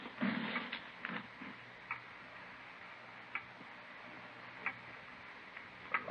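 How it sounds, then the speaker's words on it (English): A loud ticking clock in an old-time radio drama, its sharp, evenly spaced ticks standing alone in a quiet room, clear and close with faint background hiss. "It's a loud clock, ain't it?"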